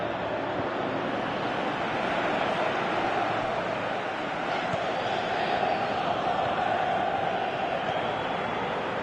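A stadium crowd in a PS4 football video game sends up a steady, dense roar that stays loud and even throughout, like distant surf, with no distinct cheers standing out.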